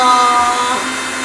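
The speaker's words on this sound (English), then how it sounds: "So this is a food processor. So everything is going to be blended into this." A food processor blends steak marinade ingredients, giving a loud, steady motorized whir with a slight dip midway, running alone without talk.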